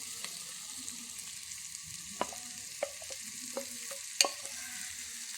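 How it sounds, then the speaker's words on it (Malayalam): Chopped colocasia stems sauté in an oiled pan with a low steady sizzle under a series of distinct clinks and scrapes from a spoon stirring, with a louder knock near the end and no talking. "ഇനി ഇതെല്ലാം കൂടി ഒന്ന് വഴറ്റി കൊടുക്കാം."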